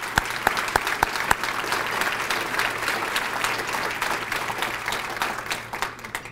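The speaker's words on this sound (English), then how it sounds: "Please give them a big round of applause." Audience applause fills a hall for members of the Howard County council at the State of the County address, with a few sharp individual claps at the start before it settles into steady, dense clapping that tapers slightly at the end.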